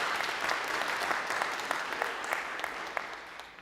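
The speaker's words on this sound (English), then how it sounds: "Let's please give another round of applause to all of the auction members." A church congregation at a winter solstice service applauds steadily, with many hands clapping in a dense, even patter at moderate distance that fades slightly toward the end.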